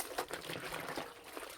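Clothes rinsed by hand in a river outdoors, faint splashing and trickling water in short uneven bursts, close by and quiet.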